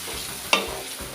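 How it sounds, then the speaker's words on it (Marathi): Ground masala paste tipped into ripe mango curry and stirred in a pan, a single loud scraping splash and sizzle burst midway, then a soft frying hiss. "जेवढं आपण वाटण घेतलं होतं तेवढं सर्व आपल्याला घालायचं आहे मिक्स करून घेऊया"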